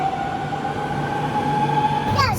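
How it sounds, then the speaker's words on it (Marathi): A metro train in Europe rolls into a station with a steady electric whine and rumble, ending in a rising squeal of brakes. "तर आता आमची ट्रेनसुद्धा आलेली आहे"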